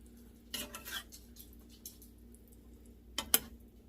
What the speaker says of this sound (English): And we're gonna stir this up, get the heat up a little bit